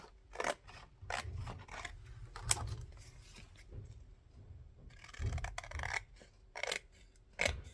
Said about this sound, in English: just cutting it, eyeballing it, using the edge of the pattern paper as a guide.